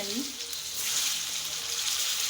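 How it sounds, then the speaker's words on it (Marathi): Brinjal sizzling as it is sautéed with masala, salt and coriander in a hot pan, a steady bright frying hiss close up with faint stirring underneath. "परतून घेऊया"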